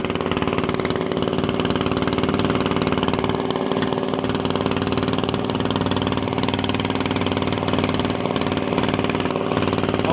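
A makeshift 3 hp outboard motor built with a Briggs & Stratton engine and a PVC pipe and duct tape intake runs steadily at a loud, rough idle, close by, with a constant droning buzz throughout.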